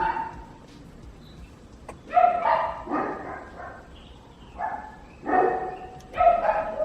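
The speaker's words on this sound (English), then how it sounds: "all the dogs start barking" Several dogs bark in irregular bursts, some loud and close, others further off, with short pauses of quiet between the outbursts.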